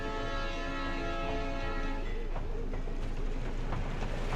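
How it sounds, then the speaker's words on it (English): A train passes through a Planet Coaster theme park recreation, a steady loud rumble with rolling wheel clatter that persists throughout. "Comes the train."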